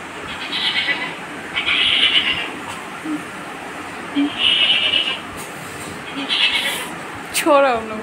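A goat bleats several times in short, wavering cries spread through the stretch, moderately near, over a steady outdoor background hum.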